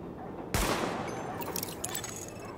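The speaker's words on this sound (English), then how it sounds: "Open fire at the highlighted targets." A pistol fires during weapon target practice in the video game Tom Clancy's The Division: one sharp, loud shot cracks out close by, followed by a rapid flurry of quieter shots and clicks fading under a lingering ambient wash.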